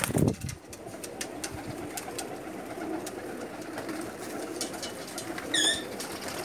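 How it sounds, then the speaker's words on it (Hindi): Home-bred pigeons in a loft coo in low rolling calls while a sharp burst of flapping wings comes at the start, followed by faint chirps near the end. "अच्छी क्वालिटी के कबूतर हैं।"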